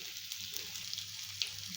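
Ridge gourd sautéing in a wok over very low heat gives a soft, steady sizzle with faint crackles, quiet and close, with no voices.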